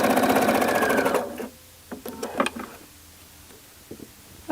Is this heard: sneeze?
no